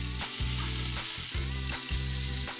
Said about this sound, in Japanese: 野菜もフライパンで焼きます